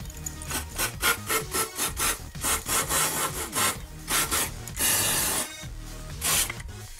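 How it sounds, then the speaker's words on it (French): Quick repeated rubbing and wiping strokes cleaning the oil filter seat of a Suzuki GSX-R 1000 K1, close and scratchy, in an irregular rhythm with a short hissy spray burst partway through. "on va en profiter pour mettre un petit coup de nettoyage sur la portée du filtre à huile"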